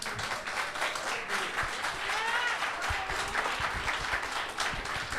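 A church congregation applauds during a sermon, a steady mid-distance wash of many hands clapping that holds for several seconds.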